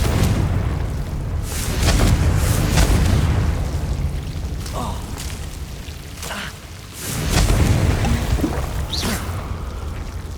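Confringo fire spell in Hogwarts Legacy bursting into loud booming blasts amid continuous rumbling combat noise, with a couple of heavy surges and brief whooshes.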